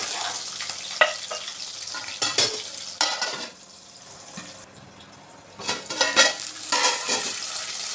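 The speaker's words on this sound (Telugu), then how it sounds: "చిన్న చిన్న ముక్కలుగా కట్ చేసుకొని ఇందులో వేసుకొని కలుపుకోవాలి" Chopped onions and green chillies hit hot oil for a chicken curry, giving a steady sizzle broken by several sharp scrapes and clatters of a spoon stirring in the pan, with a quieter stretch midway.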